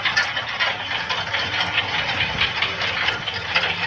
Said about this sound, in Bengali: দেখুন বন্ধুরা, কত সুন্দর মুড়ি ভাজার সিস্টেম